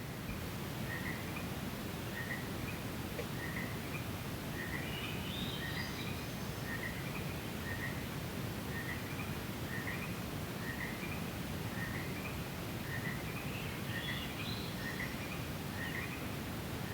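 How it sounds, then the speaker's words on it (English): Evening in Oregon woods: a Swainson's thrush repeats short, rising whistled phrases at a regular pace, faint above a constant hiss of background noise, with a pair of frogs calling. "Got a pair of frogs calling to each other. Swainson's thrush up there."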